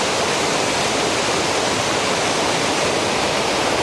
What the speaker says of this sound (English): you can hear this beautiful waterfall